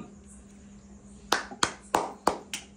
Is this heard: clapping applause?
yes